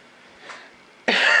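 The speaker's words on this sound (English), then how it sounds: "I'm still trying to get over this cough that I've been having for weeks now" A single sharp adult cough bursts out loudly and close at the end after a faint breath, coming from someone suffering a lingering weeks-long cough.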